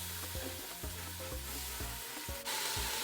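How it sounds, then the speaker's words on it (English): Bite-size pieces of cut-up pork chop hit hot olive oil in a preheated pan, giving a steady loud sizzle with crackling spatter that swells as more meat goes in, alone with no voices. "Now that oil's nice and hot, add the pork."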